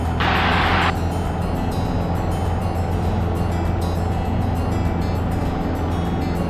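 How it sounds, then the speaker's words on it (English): Cessna 150 engine roaring at full power through a takeoff roll from runway 23, a steady loud drone with a brief hiss of cabin noise near the start. "Cessna 437, be departing runway 23."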